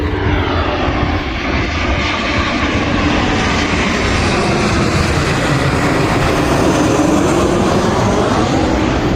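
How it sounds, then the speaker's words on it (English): A loud airplane roars overhead, its engine noise swelling and sweeping past in a continuous, close drone. "Sorry about the noise, got a plane coming up."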